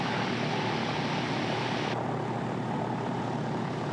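A Calidus gyroplane flies in to land, its engine and rotor making a steady, broad droning roar that holds level for the full few seconds with no voices.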